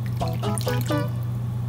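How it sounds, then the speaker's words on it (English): Water splashes and trickles into a pan of pork in a few short pours, bubbling tones rising over a steady low hum. "now I'm gonna add a little bit of water"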